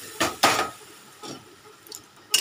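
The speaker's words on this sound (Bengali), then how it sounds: "দিয়ে সেদ্ধ করে রাখা ডালটা ঢেলে দিলাম" Boiled dal poured into a pan of spices and slit green chillies, a couple of soft liquid splashes with light clinks of metal cookware and faint sizzling, no voices.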